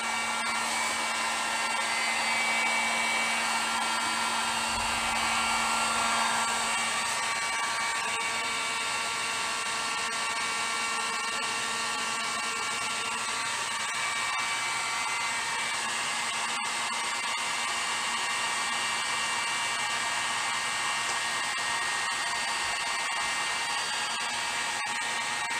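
A heat gun blows steadily on a C4 Corvette part, a continuous loud whooshing hiss with a high whine that holds nearly unchanged throughout.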